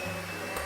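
Electric mixer whisking dessert batter with sugar at its highest speed, a brief steady high-pitched motor whine running unbroken.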